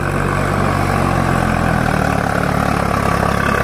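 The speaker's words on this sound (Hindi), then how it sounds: "आवाज सुनो भाई ट्रैक्टर की" Swaraj 744 XT tractor hauling a fully overloaded trolley, its diesel engine running with a loud, steady low throb and a rapid even pulsing, close and continuous for several seconds with no talk.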